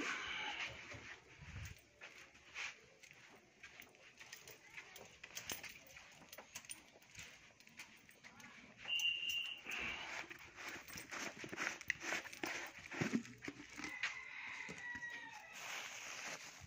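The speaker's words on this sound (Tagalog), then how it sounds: "Mga ibon dito." Outdoor calls of pet lovebirds, with clucking and a rooster-like crow, over steady background noise and scattered knocks.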